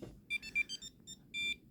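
Aftermarket alarm on a Lada Vesta NG sounding a series of short, high electronic beeps as the car locks, with a longer final tone, close and clear with no talk.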